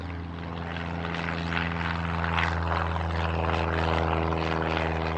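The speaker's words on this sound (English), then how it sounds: "Smaller planes, 1 or 2 seaters" A small one- or two-seat propeller plane drones steadily overhead, a constant engine hum with a slowly swelling roar, no voices.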